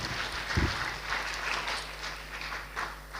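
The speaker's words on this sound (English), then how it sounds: "Let's give one more round of applause to our amazing speakers." A conference audience claps for the speakers after an education panel, a thin, fairly quiet patter of applause that swells and fades across a few seconds.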